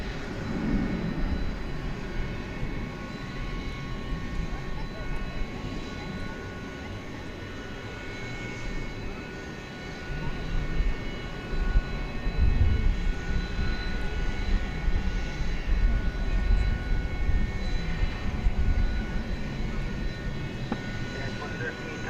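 A United Airbus A320 takes off at night from Dallas Fort Worth, its engines giving a steady, fairly distant roar that builds a little partway through, while a voice talks over it.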